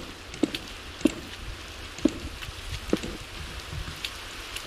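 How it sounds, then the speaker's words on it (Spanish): Rain falls in Minecraft while a modern house is being built: a soft, steady patter with a few sharper drop-like taps at regular intervals, fairly quiet and with no talk. "Está lloviendo."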